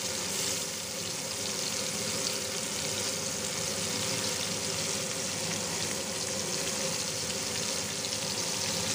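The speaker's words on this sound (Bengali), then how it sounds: "একটু বেশি তেলে খুব ভালো করে ভেজে নিতে হবে," Gule fish cut into three pieces fries in plenty of oil, giving a steady, even hiss of sizzling that runs unbroken and fairly quiet throughout, with no talking.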